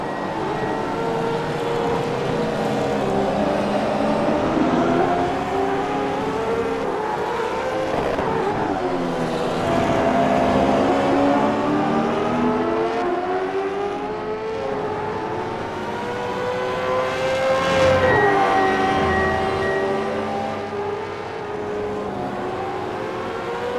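A race car engine in the iRacing sim roars continuously, revving up and down through gear shifts, loud and sustained with no talking.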